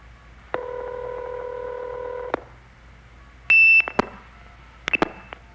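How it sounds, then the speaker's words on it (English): A telephone line answers a 2600 hertz blue box tone from a phone phreaking demonstration: a steady multi-tone tone runs for about two seconds, then a clean sharp beep is followed by clicks and a second short chirp, the kerchink of the line being seized. "right after the guy hits 2600 hertz on his blue box, you hear this kerchink"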